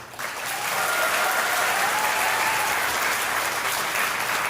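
Wedding reception guests applauding after two speeches, a full, steady round of clapping that swells in quickly and holds evenly to the end.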